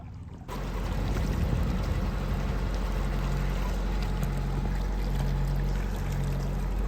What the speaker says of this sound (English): But it is rather lovely, just the water lapping.